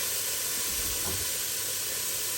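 Chopped onion fries in butter in a hot pan, a dense, steady sizzle and hiss that stays even and close throughout, with no voices.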